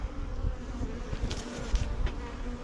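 Honeybees swarm around an opened Flow Hive during an inspection, and their dense, continuous buzzing stays close and steady with brief louder passes from individual bees.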